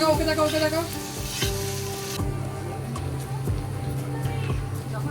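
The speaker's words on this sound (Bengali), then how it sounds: "আর এখন গরম মশলা শুকনো লঙ্কা ফোড়ন দিয়ে পেঁয়াজটা ভেজে নিচ্ছি" Onion frying in a pot with garam masala and dried chilli tempering, cooked outdoors for a large mutton feast at a village Ambubachi Puja, sizzling loudly and continuously with stirring clatter and some background voices.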